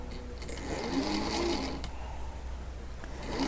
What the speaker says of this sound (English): we're just going to come over to our machine, and with our scant 1/4 inch and with that 1/4 inch offset, we are going to sew right along here